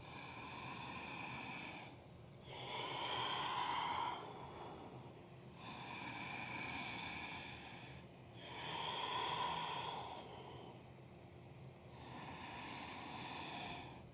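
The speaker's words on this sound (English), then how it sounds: "3 deep breaths" Slow deep breaths during a vinyasa yoga practice, long audible inhales and exhales alternating in an even rhythm, close and breathy with no talking.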